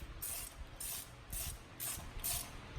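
A ratchet loosens the thermostat housing bolts on a Honda F20B engine, five short bursts of rapid clicking at a steady rhythm, close and clear with no talking.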